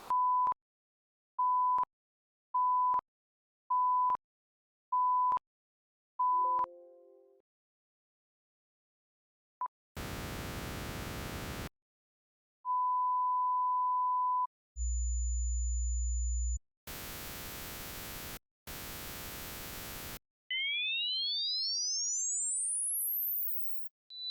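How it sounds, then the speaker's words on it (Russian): Test tones from a program generator feeding a Denon RD-X50 cassette deck in record-pause, with a series of short steady beeps, bursts of broadband noise, a low tone and rising sine sweeps, all clean and electronic. "Генератор программы подает на вход определенный сигнал"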